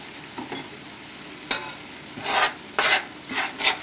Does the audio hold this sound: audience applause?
no